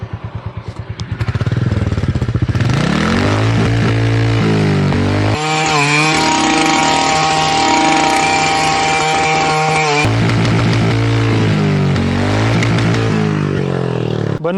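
A 2025 Royal Enfield motorcycle engine runs loud and close, a steady deep thumping idle that rises and falls in pitch with throttle blips, heard alone without talk.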